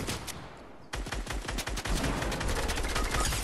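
Rapid automatic gunfire in the video game Fortnite rattles out in dense bursts, loud and sharp, briefly broken by a pause before resuming without talk.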